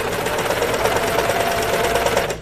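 A sewing machine runs steadily while stitching the cuff of a sweatshirt sleeve, its close, continuous mechanical whir carrying a fast even needle rhythm for the whole stretch.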